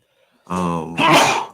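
A single close sneeze, a short voiced intake followed by a loud, breathy burst, with silence before it.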